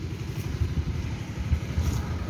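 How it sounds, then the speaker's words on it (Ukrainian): A heavy engine rumbles steadily nearby with a low, chugging throb, like a tractor pulling a rattling trailer past. "Трактор з прицепом їде."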